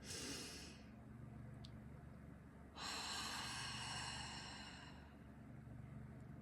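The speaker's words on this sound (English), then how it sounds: "Let's take a deep breath on that." A person takes slow, deep breaths during a calm motivational talk, two long airy inhales or exhales up close with a quiet pause between them and no speech.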